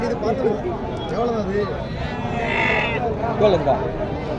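Goats bleating at the Paramakudi goat market, several short, wavering calls rising out of a busy crowd of haggling voices, with traders talking throughout.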